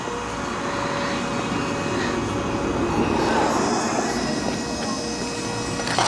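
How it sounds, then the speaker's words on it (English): A rocket motor fires on a first-person-view RC helicopter, giving a loud, steady broadband roar that holds without a break for the whole stretch. "Okay, this is the rocket ignition."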